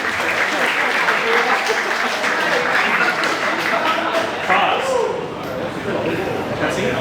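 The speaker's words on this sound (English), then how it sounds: "A big round of applause." Sustained applause from a large audience at a Star Citizen fan gathering, dense continuous clapping running throughout with crowd noise and a voice mixed in.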